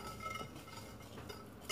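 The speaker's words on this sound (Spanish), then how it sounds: "El azúcar, muévelo" A spoon stirs sugar in a bowl while making magdalenas, giving quiet soft scraping and light clinks throughout.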